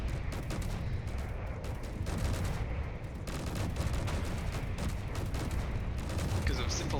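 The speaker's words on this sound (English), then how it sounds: "I've still got quite a few cannons still firing at me currently." Ship cannons on a dreadnought in Space Engineers fire without a break, a loud, dense stream of booming shots and rumbling impacts with mechanical clatter. Talking runs underneath.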